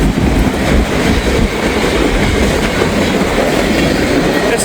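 A string of Wisconsin Central freight cars rumbles past nearby, loud and steady, with clattering wheel beats and brief metallic squeals throughout.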